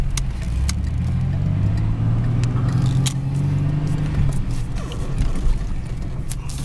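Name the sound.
car engine while driving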